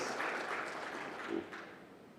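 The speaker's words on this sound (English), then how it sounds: "Yes, you deserve a round of applause." A round of applause rises from the audience at the launch of Rwanda's national fintech strategy, a soft, continuous wash of many hands clapping at a distance that thins slightly toward the end.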